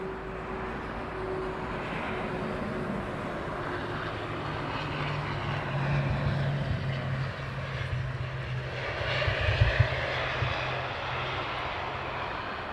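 Propeller aircraft engine at London Heathrow Airport, a steady droning hum with a broad roar that swells slightly near the end, heard from a distance and with no talking.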